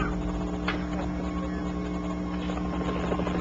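A helicopter is landing, its steady rotor hum and rhythmic blade chop loud and continuous throughout, with no talk over it.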